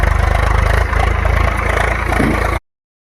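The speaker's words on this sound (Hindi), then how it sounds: "गन्ना के लिए इस तरीक़े से नाली तैयार किया जाता है ट्रैक्टर की मदद से" A tractor engine runs steadily while cutting furrows for planting sugarcane in a farm field, a loud, continuous low drone with a slight dip in the middle, heard alone without talk.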